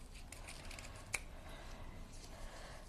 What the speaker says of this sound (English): I'm just going to take some ribbon and I'm just going to cut it